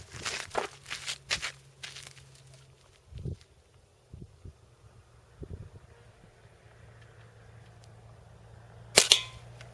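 A BB gun fires outdoors: a string of quick, light pops early on, a few scattered softer clicks and rustles, then one sharper crack near the end, all fairly faint with no talking.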